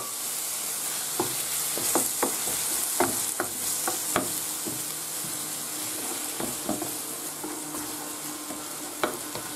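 Chopped tomato for a Gandia-style fideuà sizzles steadily in a pan, with sharp clicks and scrapes of a utensil stirring it at irregular intervals.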